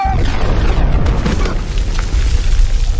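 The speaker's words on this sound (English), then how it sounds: "Explosion's so close to you" A close, booming explosion from a played movie clip erupts with a heavy low rumble and crackling debris that fill the whole stretch, with no clear talk over it.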